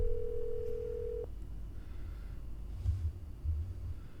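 A phone call tone in a Nancy Drew mystery game: a steady electronic tone holds for about a second and cuts off, followed by a quieter low hum with a few faint blips.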